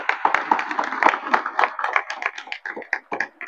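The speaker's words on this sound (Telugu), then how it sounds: "ఎంత గర్వకారణం అయ్యా! చప్పట్లు కొట్టండి" Audience members at a spiritual discourse clap in a loose, uneven burst of distinct handclaps that thin out toward the end.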